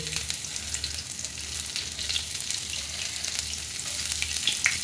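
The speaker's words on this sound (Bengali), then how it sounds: "তেল দিয়ে দিয়েছি, রসুন, পেঁয়াজ, মরিচ কুচি দিয়ে দেবো" Chopped garlic, onion and chili fry in hot oil, a dense, even sizzle and crackle that holds steady throughout, with a few faint sharper spits near the end and no one talking.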